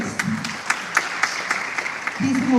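Audience applause at a scholarship award ceremony in Annandale, Virginia, a steady patter of clapping from a crowd with sharp individual claps standing out, while a voice begins to speak at the end.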